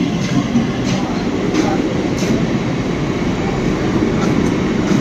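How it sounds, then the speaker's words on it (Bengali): A train from Howrah bound for Bardhaman pulls into Masagram station, a loud continuous rumble and rattle of wheels with faint clicks, close at the platform. "হাওড়া থেকে ট্রেনটা ঢুকছে, এটা বর্ধমান যাবে।"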